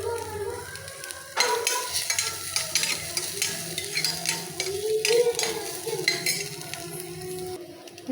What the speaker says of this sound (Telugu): ఇలా మంచిగా నూనెలో బాగా వేయించుకోవాలి.